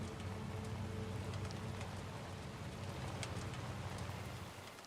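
Steady, dense rain hiss of timefall in a video game, continuous and fairly loud across the whole stretch with faint thunder-like rumble underneath, easing slightly at the very end.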